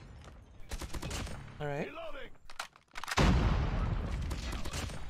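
Rapid bursts of hip-fired gunfire crackle in a first-person video game shooter, with a short flurry early on and a denser, louder volley at the end, while a player talks and an electronic game tone warbles between the shots.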